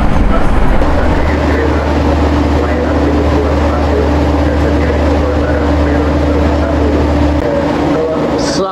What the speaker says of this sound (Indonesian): kereta api Dharma Wangsa masuk jalur 2 stasiun Cepu